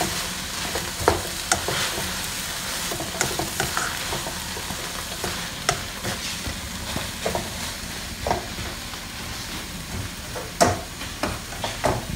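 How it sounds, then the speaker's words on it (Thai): Vegetables stir-fried for pad thai sizzle steadily in a hot pan, while a spatula scrapes and clacks against the metal in irregular strokes, close and uninterrupted. "เดี๋ยวผัดจนผักสุกสักนิดนึงครับ แต่ไม่ต้องผัดจนเละมากนะครับ"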